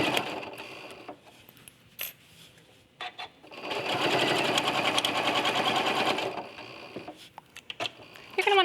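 Sewing machine stitching binding onto the back of a quilt, running in short bursts and then a steady, close, loud stretch of rapid stitching, with pauses and light handling noises between runs.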